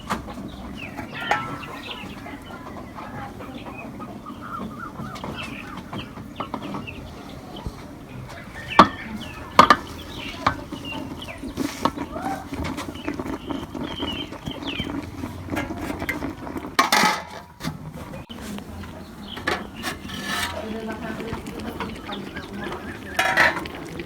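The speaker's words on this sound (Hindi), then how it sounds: "एक दफ़ा पालक को हिला लेंगे।" Spinach being stirred in an unglazed clay cooking pot for aloo palak, with scattered scraping and knocking clicks, some sharper clacks, and a faint bird in the background, with no talking.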